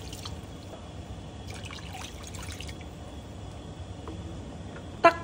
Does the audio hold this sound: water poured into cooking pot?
yes